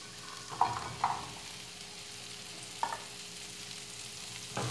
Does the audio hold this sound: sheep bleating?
no